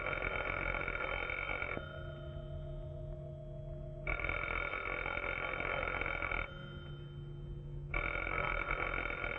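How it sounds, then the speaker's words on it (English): An old-fashioned telephone rings in long repeated bursts with pauses between them, steady and fairly loud in a quiet room in a 1950s television drama. "When it stops ringing, call Johnny."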